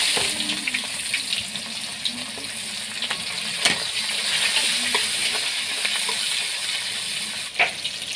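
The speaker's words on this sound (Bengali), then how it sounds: "পেঁয়াজ দিয়ে দিচ্ছি" Sliced onions fry in plenty of hot oil, a steady close hiss and sizzle running throughout, with occasional scrapes and clinks of a spoon stirring against the pan; no voices.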